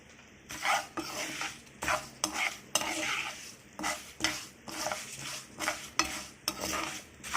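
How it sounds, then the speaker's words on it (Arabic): Lisan al-asfour vermicelli fries in a pot with soft sizzling while a spoon stirs and scrapes in repeated close strokes, clinking against the metal. "احنا طبعا بنحمر اهو لسان العصفور، هنحمره كويس جدا زي الشعرية كده"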